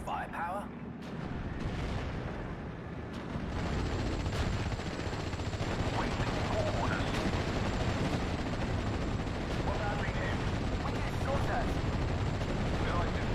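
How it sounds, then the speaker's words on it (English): Battlefield sounds from the WWII strategy game Steel Division: Normandy 44: a rumbling, continuous wash of artillery and small-arms fire, moderately distant, with sporadic sharper reports and a voice speaking over it. "Start hitting those with some artillery fire"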